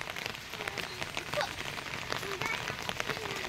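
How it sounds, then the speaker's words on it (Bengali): Rain falling steadily on a muddy village road in Morigaon, Assam, a constant close patter of drops with brief louder taps. "এখন জানি সব জায়গায় বৃষ্টি হচ্ছে"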